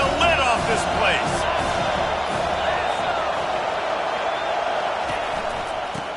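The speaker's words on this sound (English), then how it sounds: "This crowd is tearing the lid off this place." A stadium crowd at a college football game, Bowling Green at Penn State, roars continuously and loudly throughout, a dense wall of cheering with commentators talking over it.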